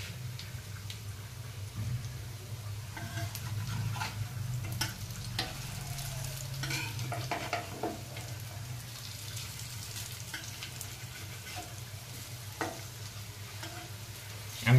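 Cabbage pakora fritters fry in hot oil with a continuous bubbling sizzle, low and steady, and a few light utensil taps and splashes; no talking.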